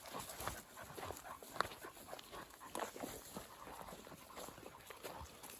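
A dog pants softly and steadily outdoors at the Pointe du Payré in Jard-sur-Mer, faint breathing with scattered rustles and thuds, quiet throughout.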